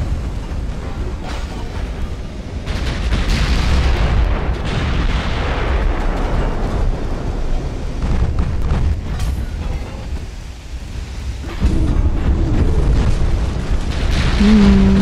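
Torpedo hits and explosions in the naval warfare game Ultimate Admiral: Dreadnoughts, heavy rumbling booms that rise and fall over a long stretch with a steady roaring background, fairly loud and without talk.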